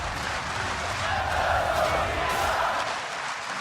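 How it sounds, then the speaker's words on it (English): A large esports crowd at the 2016 League of Legends World Championship roars and cheers continuously, a dense wash of voices swelling slightly in the middle, heard from a distance. "And the crowd is cheering him on."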